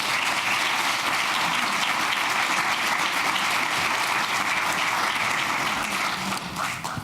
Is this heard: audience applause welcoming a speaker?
yes